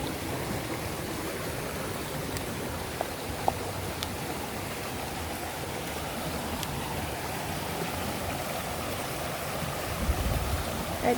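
A river flowing in sunny weather at Yellow Dragon River in Hong Kong, giving a steady, even wash of rushing water close by with a few small splashes and no pauses over the whole stretch.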